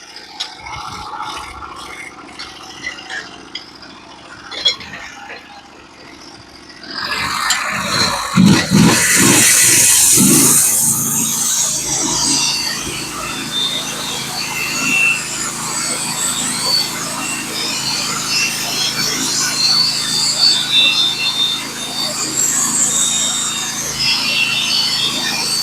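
A Norwood HD36v2 sawmill cuts a pitch pine log, starting with rattling and knocking before a loud, sustained whirring saw cut with scraping and a low mechanical hum carries on to the end.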